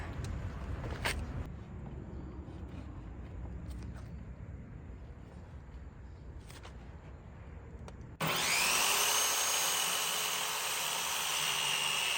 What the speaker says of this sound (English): Let's saw this baby in half.